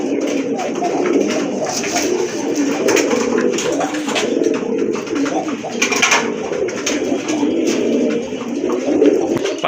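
Large fancy pigeons with upright head crests, feathered feet and satin plumage coo in steady, overlapping calls, close and fairly loud throughout.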